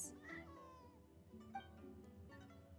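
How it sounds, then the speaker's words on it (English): A kitten in the video game Genshin Impact meows several times in close succession, a clear, near, fairly quiet cry over soft game ambience, with no talk. "The cat turns and leaves, looking frustrated."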